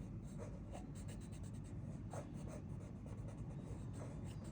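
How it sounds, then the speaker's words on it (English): A colored pencil skipping across paper in quick scratchy bursts, a faint, close, dry rhythmic scraping of short repeated strokes over a low steady background. "you can just let the pencil kind of skip across the paper"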